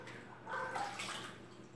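A litre of cold water poured from a container while making homemade detergent from market soap, a soft continuous splashing wash of water rising briefly in the middle, close and fairly quiet.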